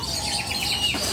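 Chickens cluck and chirp in a steady, busy patter close by at a bird market in Mataram, Lombok, with a soft background hum throughout.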